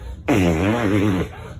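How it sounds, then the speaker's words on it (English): A long, loud novelty fart sound effect, one continuous sputtering, wavering blast lasting about a second with no talk over it. "Long fart sound effect."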